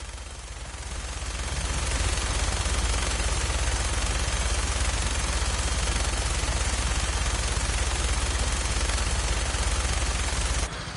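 Sustained dense rattle of machine-gun fire during a vertibird flight over the Commonwealth in Fallout, loud and continuous over a low rotor drone, with no voices.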